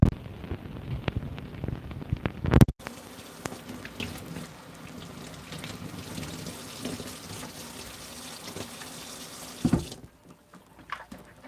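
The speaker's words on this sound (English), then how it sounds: "I'm just rinsing off the plant here." Tap water runs over a plant being rinsed, a steady close splashing wash with a few louder bursts and clatters near the start and toward the end, then quieting to a faint trickle.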